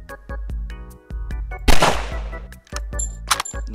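A single sharp sniper rifle shot in a browser shooting game, loud and close, with a brief noisy tail, set among short rhythmic game sound effects.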